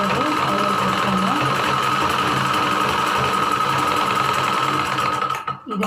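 A sewing machine stitching a blouse hums and chatters in a fast, steady rhythm close by, running continuously before stopping abruptly near the end.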